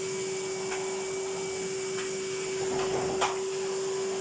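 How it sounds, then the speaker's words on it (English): Vacuum cleaner hoovering a Persian silk carpet indoors, a steady loud motor drone with a sustained whine and occasional brief knocks and scrapes as the head moves, with no voices. "I've got to hoover the carpet."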